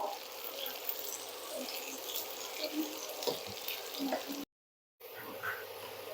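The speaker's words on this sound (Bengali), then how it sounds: "আড়াইশো গ্রাম মতো পেঁয়াজটাকে একটু গোল্ডেন ব্রাউন করে নেবো" Onions fry in a pan toward golden brown with a faint, steady sizzle and soft crackles. The sound cuts out briefly near the end, then resumes.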